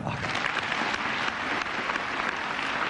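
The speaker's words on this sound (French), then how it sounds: "vous pouvez quand même l'applaudir" A television studio audience bursts into sustained applause for a ten-year-old solo sailor, a dense, even wash of clapping that stays loud and steady throughout.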